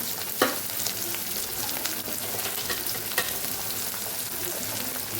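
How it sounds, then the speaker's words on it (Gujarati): Garlic chutney with onion and tomato frying in a pan, a loud steady sizzle throughout with a couple of brief stirring knocks, no voices. "લસણ વાળી ચટણી પણ ઉમેરી દઈશું"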